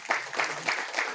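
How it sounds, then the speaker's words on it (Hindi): Applause from a modest audience at a school student honour ceremony in Nainital, a short burst of scattered hand claps in loose rhythm, moderately distant and fairly soft. "जोरदार तालियां"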